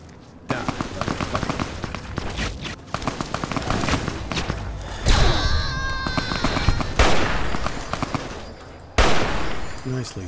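Gunshots in a modded Fallout: New Vegas fight against fiends with laser weapons, repeated loud bursts of close shots and impacts at irregular intervals, with other game sounds between them.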